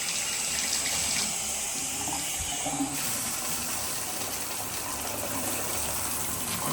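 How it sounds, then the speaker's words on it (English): Shower water runs steadily in a hotel bathroom at the Hyatt Regency in downtown Dallas, a continuous close hiss and gush with no talk over it. "Here's your shower right here."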